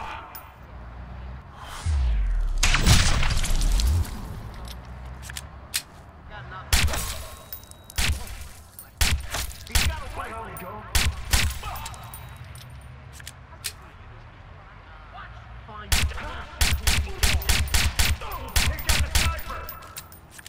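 Sniper rifle fire in the stealth game Watch Dogs: sharp, loud cracks scattered across the stretch, some clustered in quick bursts, with a heavy low rumble early on and no talk.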